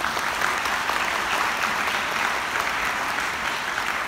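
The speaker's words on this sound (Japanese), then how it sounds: "今一度盛大な拍手をお願いいたします" An audience claps warmly and steadily after an assistance dog association's demonstration, the dense, even applause filling the whole stretch without letting up.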